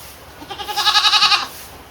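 Goats bleat in a wavering, pulsing cry from a muddy goat pen in the rainy season, a single close, fairly loud call over a quiet background.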